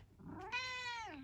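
A grumpy cat lets out a single drawn-out, rising-then-falling meow, close and fairly quiet, with nothing else around it.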